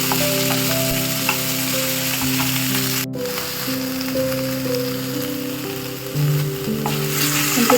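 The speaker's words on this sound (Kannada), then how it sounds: "ಈರುಳ್ಳಿ ಪೇಸ್ಟ್ ಹಾಕೊಂಡು ಇದ್ದೀನಿ ಸ್ವಲ್ಪ ಫ್ರೈ ಆದ ನಂತರ" Onion paste fries in a pan for a mushroom gravy, a steady loud sizzle that crackles like rain throughout, with occasional stirring scrapes and one brief cut partway through.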